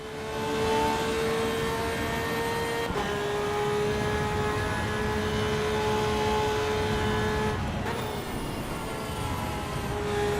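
A Lamborghini Huracan race car engine in the racing game Assetto Corsa EVO at the Nürburgring holds a steady, loud, droning note at near-constant revs, broken by two brief dips, with no talk.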